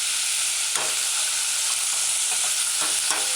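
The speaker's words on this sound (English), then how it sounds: "Stir it in gently. You want to keep your cubed luncheon in one piece. Allow it to saute." Chopped tomato and cubed luncheon meat sautéing in a pan over medium-low heat: a dense, steady, close sizzle with a few soft scraping stirs, no talking.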